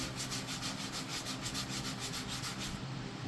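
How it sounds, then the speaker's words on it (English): Steady rubbing across a leather cover being pressed onto a 2022-2027 Honda Civic arm rest, a close, continuous rhythmic swishing with regular strokes and no talk. "Just kind of give it a good rubbing."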